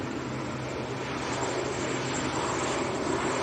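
An Aer Lingus airliner departing Manchester Airport for Dublin gives a steady, moderately loud jet roar with a low hum underneath, unbroken and without talk.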